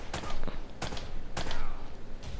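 Gunfire in Uncharted: Drake's Fortune, three sharp, loud shots about half a second apart with echoing tails, followed by a softer fourth report.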